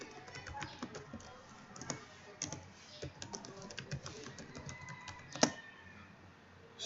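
Keystrokes on a computer keyboard while signing in as administrator, a quiet, irregular run of soft clicks and taps close by with no voices.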